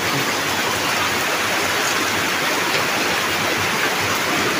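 Steady, dense rain with a constant broadband hiss, loud and close, no pauses or voices throughout.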